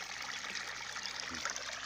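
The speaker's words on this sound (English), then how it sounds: "the drain pipe is spilling pretty good" Rainwater spilling from a drain pipe into a pond after a night of rain, a steady close trickling splash that runs on without a break.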